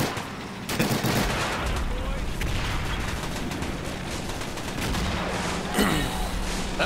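Distant, rapid gunfire rattles almost continuously in a war video game, with a few heavier blasts that could be mortar rounds, all fairly muffled, while players talk quietly over it.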